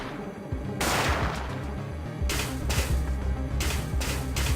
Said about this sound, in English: let's fight some enemies in here with the AS-12, which are the automated guns